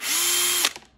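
Power driver backing out a screw from a Digirig Mobile 1.9 radio interface board, a single short, loud high whir lasting just over half a second before stopping abruptly.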